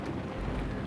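Wind gusts across a fishing boat out on the water, a low steady rumbling buffet against the microphone with no talking.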